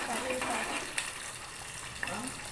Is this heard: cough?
no